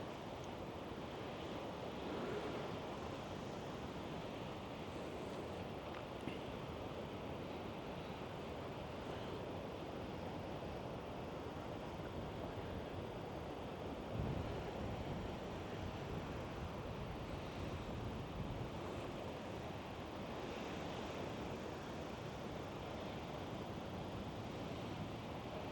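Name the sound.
sea waves and wind on the coast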